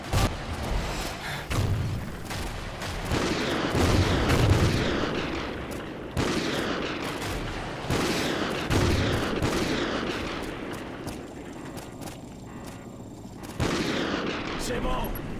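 Gunfire in the video game Call of Duty Ghosts as rocket launchers are destroyed with a remote-controlled rifle: repeated loud shots and booms over a dense battle din, with voices talking through it.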